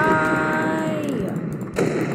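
Ship guns firing in the Ship Crash Physics game, one booming shot near the end over a falling whistling tone and steady background rumble.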